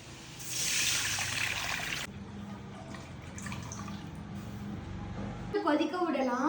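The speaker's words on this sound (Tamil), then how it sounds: "ஒரு லிட்டர் பால் ஊத்திக்கலாம்." A litre of milk poured into a pot for a Japan chicken dish, a steady splashing stream for a couple of seconds, then quieter kitchen sounds and sizzling.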